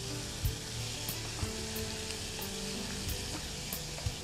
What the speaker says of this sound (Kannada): ಅದರಲ್ಲೇ ಇನ್ನೂ ಸ್ವಲ್ಪ ಫ್ರೈ ಮಾಡ್ಕೊಳ್ಬೇಕು